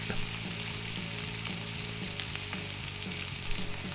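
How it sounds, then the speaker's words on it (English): Hamburger patties sizzle steadily in a frying pan, a constant crackling hiss with small pops and spits throughout. "Place the patties into the frying pan with the thumb dent side facing up."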